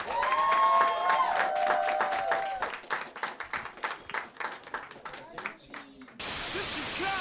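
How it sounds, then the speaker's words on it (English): Audience applause for Jermesha at a live Chicago storytelling event, a burst of clapping mixed with voices and crowd noise, fading into scattered claps before an abrupt shift to steady hiss. "Give a round of applause for Jermesha."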